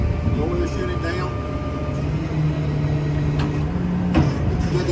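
A tow truck's wheel lift lowers with a steady hydraulic whine and low engine rumble, close by, with a gentle rising tone and brief clanks near the end.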